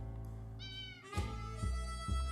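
A cat in the video game 60 Seconds lets out a short, faint meow over a steady bed of game music and ambience with low thumps, no talking.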